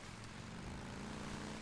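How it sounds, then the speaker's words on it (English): PlayStation Pro console fan roars with a steady, jet-like whoosh and low hum, constant and fairly faint in the background with no talking. "if you hear like a weird noise in the background sounding like a fucking jet going off, it's my PlayStation Pro"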